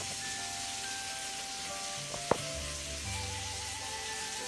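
Irish bangers cooking in a pan with a little water give off a steady, even sizzle and hiss, with one sharp click partway through. There is no talking.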